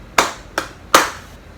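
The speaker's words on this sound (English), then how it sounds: "3 claps for perfect 10." Three sharp hand claps, close and loud, evenly spaced about a third of a second apart, with the last one strongest, alone with no talk.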